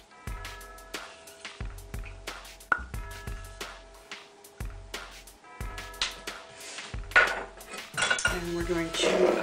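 Spoon or spatula clattering and scraping against a bowl while peanut butter cookie dough with vanilla is mixed, in a steady run of close, clinking knocks that grow busier and louder toward the end.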